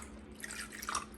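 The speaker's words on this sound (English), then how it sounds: "I'm gonna add a little bit of water here" Water dripping and trickling into a Kachava smoothie mix with banana, faint and close, a few soft splashy drips over low background hum.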